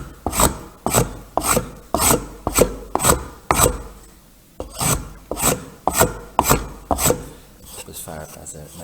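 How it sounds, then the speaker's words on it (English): A spokeshave with a flat bottom shaves a wooden piece clamped in a vise, making a steady series of about fourteen rasping strokes with a short pause partway, close and loud with no talking. "spoke shave with the flat bottom"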